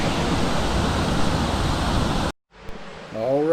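Moore Cove waterfall on a North Carolina mountain hiking trail, a steady, loud broadband rush of falling water that cuts out abruptly partway through, followed by quieter ambience with a brief voice.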